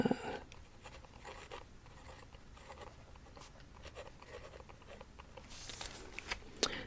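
Pen or marker scratching across paper while writing on a chart, a steady soft scratchy run with brief strokes and taps, close and quiet, with a few louder rustles near the end.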